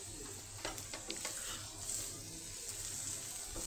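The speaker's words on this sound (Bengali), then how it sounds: "লবণটা দিয়ে আমি একটু নাড়াচাড়া করে নিয়েছি।" Vegetables fry in a pan while being stirred with salt added, a constant hiss of sizzling broken by several quick scraping and clattering spoon strokes, close and alone with no talking.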